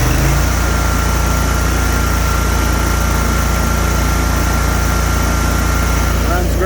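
A 60-inch Hustler X-ONE commercial-grade zero turn riding mower engine runs loud and close with a steady, even drone that holds throughout, lifting slightly at the very end.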